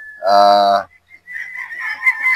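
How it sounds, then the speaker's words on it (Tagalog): A Boston Roundhead broodstag gamefowl gives one loud, close call lasting about half a second, then falls quiet while faint clucks and low murmurs follow. "Yan po ang ating broodstag na Boston Roundhead."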